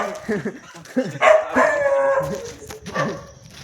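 A dog barks a few times in short yips and bow-wows among men chatting outdoors, the barks moderately close and partly overlapping the talk.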